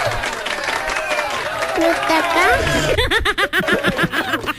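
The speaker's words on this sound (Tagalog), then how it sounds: "Ba't may napalakpak dyan?" Dense clapping and crowd noise in a radio studio fill the first seconds beneath talk and chuckles, then thin out as speech takes over.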